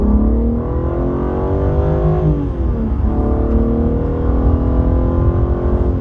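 A BMW G80 M3 in sport mode accelerates hard while holding third gear, its engine note climbing steadily and loud from inside the cabin, with one brief dip in pitch partway through.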